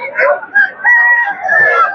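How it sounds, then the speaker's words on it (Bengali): A rooster crows loudly and close by at a busy duck and chicken poultry market, giving one drawn-out call over two seconds. "দর্শক আরো এখানে অনেক হাঁস মুরগি উঠছে এখানে"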